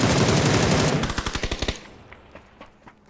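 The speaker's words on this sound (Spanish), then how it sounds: "Nos disparan de lejos." Gunfire in the battle royale game PUBG: a loud dense burst of automatic fire, then a run of separate evenly spaced shots, and a few fainter distant shots trailing off afterwards.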